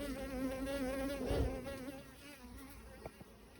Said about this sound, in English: Another guard bee.